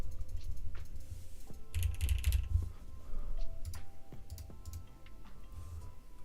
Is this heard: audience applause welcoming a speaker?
no